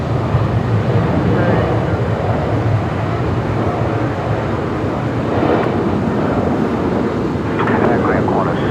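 Airliner Velocity 978 takes off at Brisbane Airport as a broad, steady jet roar mixed with wind buffeting on the microphone, with a voice talking over it.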